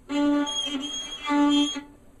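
A bowed fiddle, bow not pulled at 90 degrees, plays two scratchy, strained notes with a harsh, uneven tone, each held about half a second, close and fairly loud.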